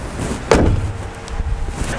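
The hood of a Citroën DS7 shuts with one sharp, close thud, followed by a low, fading resonance and quiet background noise.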